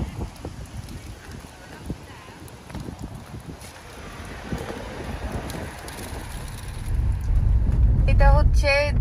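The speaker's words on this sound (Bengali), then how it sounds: "প্রচুর বাতাস।" Strong autumn wind sweeping through Victoria Park in London, rumbling and buffeting the microphone steadily and growing louder and heavier toward the end.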